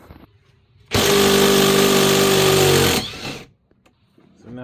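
A power driver unscrews Torx screws while a lithium battery is fitted in a 2008 Club Car Precedent golf cart. It gives one loud, steady two-second whine, then winds down and stops.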